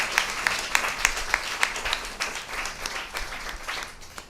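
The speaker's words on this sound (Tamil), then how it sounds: "கைத்தட்டலாமா?" Church congregation clapping together during a Bible reading, a steady patter of many hands with sharp rhythmic accents at first, then a looser, softer spread of claps; no voices over it.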